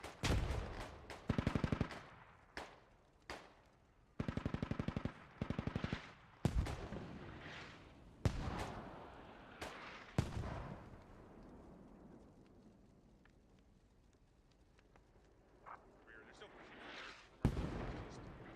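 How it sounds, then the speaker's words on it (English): Mortar shells and gunfire in the military shooter game Squad: rapid bursts of automatic fire and heavy booming impacts, a quieter lull in the middle, then more blasts near the end. "See those mortars coming in."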